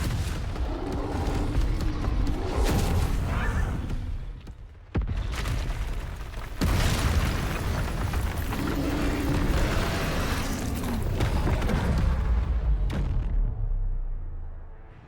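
Bombarda spell blasts in the Hogwarts Legacy video game, a dense run of loud booming explosions with a sharp cut near five seconds and a fresh burst just after, rumbling and crackling continuously throughout.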